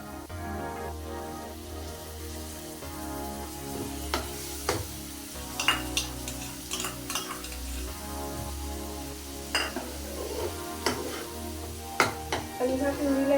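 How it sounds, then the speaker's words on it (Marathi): Onion-tomato puree sautés in hot oil for a dhaba-style egg masala, giving a soft continuous sizzle broken by scattered clicks and scrapes as a spoon stirs the pan. "आणि ह्या प्युरीला एक छान पैकी 5 मिनिटं आपण परतवून घेऊया."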